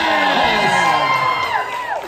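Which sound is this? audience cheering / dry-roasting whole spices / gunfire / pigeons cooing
audience cheering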